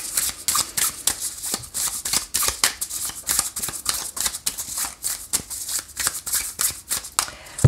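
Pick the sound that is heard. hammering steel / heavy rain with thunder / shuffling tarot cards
shuffling tarot cards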